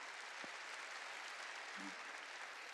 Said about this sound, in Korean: 박수 좀 쳐주라고.